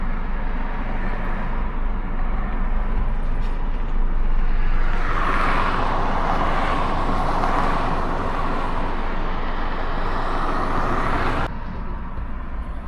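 A taxi car drives through city traffic in Dnipro, heard from inside as a steady, fairly loud road rumble with engine and tyre noise. The noise swells briefly midway and drops slightly near the end.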